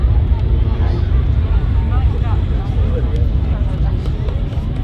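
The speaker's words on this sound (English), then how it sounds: "You just hear the engines of the 777 Emirates just winding up there" Engines of an Emirates Boeing 777 spooling up at Manchester Airport, a loud sustained roar with rising whine and rumble, heard from a distance across the airfield.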